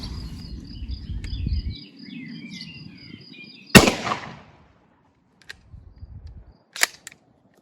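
Two sharp blasts from a CBC 586 pump shotgun with a straight-rifled barrel, fired at a 20-metre target, one loud and a quieter one a few seconds later, each ending fast, with faint birdsong early on.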